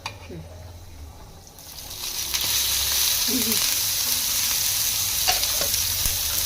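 Oil sizzles and fries in a hot pan during home cooking for a festival meal, starting quieter and swelling into a steady, loud crackling hiss with occasional stirring clinks.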